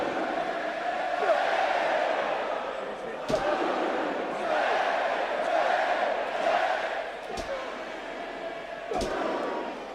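A roaring wrestling arena crowd at WWE Raw cheers continuously during a main-event world title match, with a few sharp slams cutting through and a commentator talking over the din.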